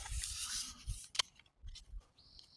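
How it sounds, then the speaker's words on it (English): Playing cards get a split deck shuffle, giving quick close riffling and rubbing bursts with short pauses between them. "Just shuffle them, split deck shuffle like this is the only way."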